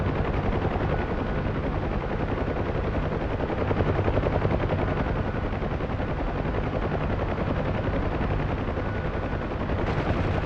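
M60 door guns firing from a UH-1 Huey helicopter in the DCS flight game, dense rapid gunfire over the constant loud thumping rotor and engine roar, continuous throughout with no voices.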